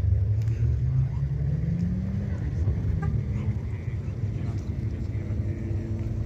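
A GJ Sigma car idling nearby at a cars-and-coffee meet, a steady low engine rumble that rises slightly in pitch mid-way, with faint background chatter under it.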